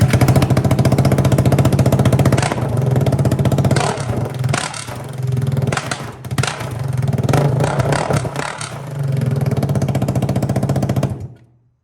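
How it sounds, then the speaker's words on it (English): A KTM 390 Duke motorcycle single-cylinder engine starts and idles with only the header pipe fitted. It runs very loud and raw throughout, with choppy blips of the throttle in the middle and a steady rough idle until it cuts off at the end. "This is just gonna be a startup with just the header pipe on."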